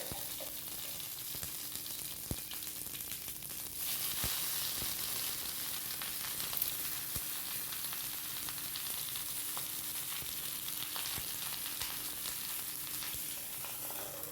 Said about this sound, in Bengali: এই তেলেই সব কটা মাছ আমার হয়ে যাবে রান্না করা